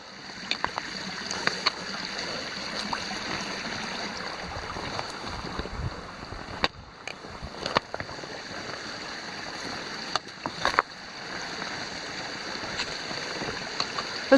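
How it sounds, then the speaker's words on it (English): Water flows steadily along a creek beside a hiking trail in Pennsylvania's Little Pine State Park area, a soft continuous babble with occasional nearby clicks and footstep-like taps. "It's so nice to be walking along a creek again."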